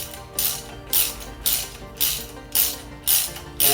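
Ratchet clicking steadily while backing out a bolt on an EG Honda Civic during coolant housing work, about seven evenly spaced bursts of metallic pawl clicks, close and fairly loud, with no voices.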